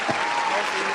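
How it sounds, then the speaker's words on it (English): A short burst of crowd applause at a 2019 championship-style show, a dense, even patter of clapping throughout. "Round of applause"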